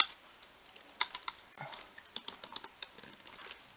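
Keys on a computer keyboard are tapped to type a print command, giving quiet, irregular clicks at close range with short pauses between them.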